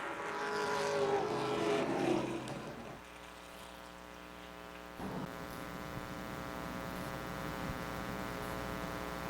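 Stock race cars racing at Wiscasset Speedway, a roaring, buzzing engine drone that swells and then settles into a steady, harmonic-rich whine, mid-distance and sustained with no talk over it.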